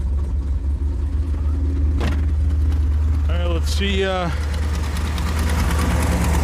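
An old car engine idles steadily after being started, its low rumble running throughout with a couple of brief revs partway through while someone talks nearby.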